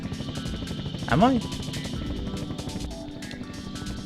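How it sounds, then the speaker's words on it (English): A helicopter in a Sega Dreamcast game gives off a steady rotor drone under constant game noise, with a brief rising-and-falling synth swoop near the start and someone talking over it. "Trying to control a helicopter with a single analog stick."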